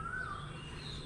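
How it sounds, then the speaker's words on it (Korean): A single bird gives a brief rising chirp in the morning near a forest in Tak, northern Thailand, over a soft, constant outdoor hush. "새소리 되게 많이 들리네"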